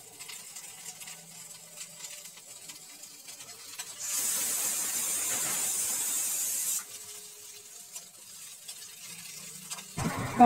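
Whole slit onions frying in a wok: quiet low background, then a sudden loud sizzle for about three seconds before it drops back down.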